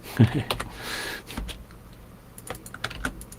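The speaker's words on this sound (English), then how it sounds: "Talking and typing." Computer keyboard typing in a quiet room: a few scattered key clicks and taps, fairly close, with a short burst of soft voice near the start.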